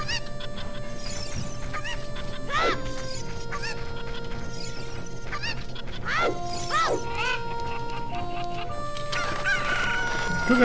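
Chickens cluck in Zelda: Ocarina of Time, a busy run of overlapping squawks and clucks over a steady game background, loud and close with no talking.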